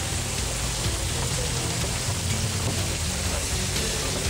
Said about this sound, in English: but man, the hail's coming out.